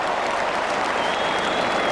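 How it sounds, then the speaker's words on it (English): Large stadium crowd at an Adelaide versus Carlton Australian football match roaring and cheering steadily, a dense, loud wash of applause and voices that holds without a break. "the crowd has stood and cheered"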